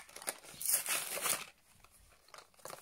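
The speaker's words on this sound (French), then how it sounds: "je vais commencer par ouvrir les boîtes de ponçage" Crinkly tearing and scraping of cardboard and tape at close range, busiest in the first half and then quieter, with small rustles.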